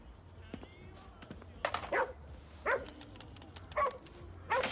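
A dog outdoors gives a series of sharp yelps and barks, about five bursts spaced irregularly, fairly close over faint background noise.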